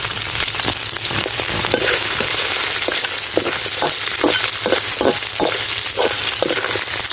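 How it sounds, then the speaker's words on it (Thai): Crab frying with garlic in a pan for a curry powder crab stir-fry, a loud close sizzle broken by repeated scraping and clacking stirs, with no talking. "กระเทียมได้ที่แล้วก็เอาปูลงก่อนเลยนะครับ"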